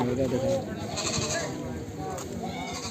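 Goats bleat repeatedly nearby amid a noisy outdoor crowd at Rukhala goat market in Punjab, with people talking and haggling throughout.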